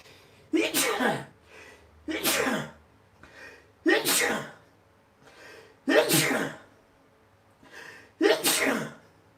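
Five sharp sneezes, close by, each a sudden explosive burst separated by quiet pauses of about a second and a half.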